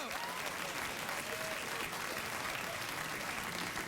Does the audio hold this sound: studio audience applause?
yes